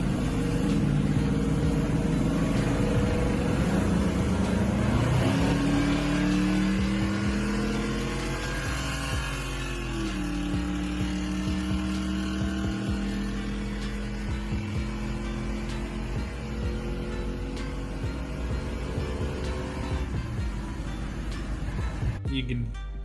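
An automatic-transmission car with burnt clutches races against a friend's car. Its loud, close engine climbs steadily in pitch, then drops through a slow, sluggish 2-3 upshift before droning on in third gear for the rest of the run.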